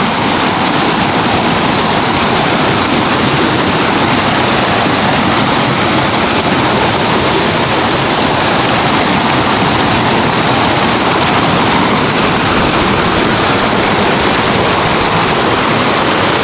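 Rushing water at Tabibinta Falls, a loud, dense, unbroken roar of cascading water that fills the whole stretch without pause.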